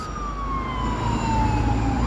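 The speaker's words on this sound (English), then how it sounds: "And we have our first sirens." An emergency vehicle siren wails along a Toronto street in Greektown, a steady descending tone rising loud and close over low traffic rumble, heard alone with no talk.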